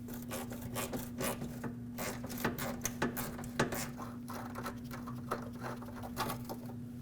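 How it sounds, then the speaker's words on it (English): A socket ratchet works loose a 10mm bolt securing the front bumper fascia corner on a 2009-2010 Dodge Ram 1500, giving irregular close clicks and scraping over a steady low hum, with no talking. "So grab a socket and a ratchet and take this off."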